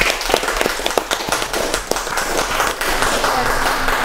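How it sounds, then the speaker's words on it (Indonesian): An audience at a dialogue event with a Maluku provincial legislator bursts into applause, a dense, steady clatter of many hands clapping close by for several seconds. "kita beri tepuk tangan dulu dong."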